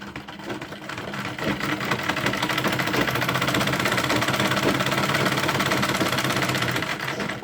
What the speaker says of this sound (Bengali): এই ফিতাগুলোকে এক এক করে সেলাই করে নিচ্ছি